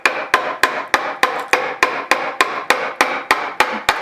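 Mallet striking a chisel while cutting a wooden post, a steady series of about fourteen sharp close knocks at a regular rhythm, each followed by a brief woody scraping decay.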